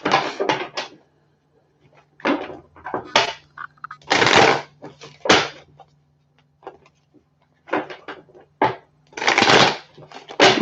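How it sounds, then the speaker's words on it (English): Tarot cards being shuffled by hand in a quiet room, repeated bursts of riffling and snapping card noise, close and crisp, with short pauses between shuffles. "One more shuffle for my Virgos."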